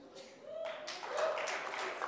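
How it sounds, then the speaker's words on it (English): An audience at a climate policy talk claps in a soft, continuous patter that swells slightly and holds for a couple of seconds. "Why are you guys clapping her?"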